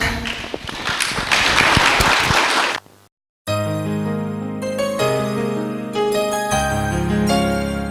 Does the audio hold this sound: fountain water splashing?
no